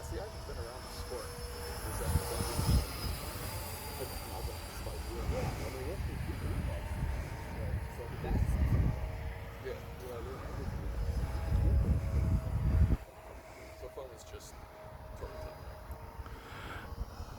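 Small E-flite F-15 electric RC jet flying at a little over half throttle, its ducted-fan whine rising and fading as it passes overhead, with someone talking over it.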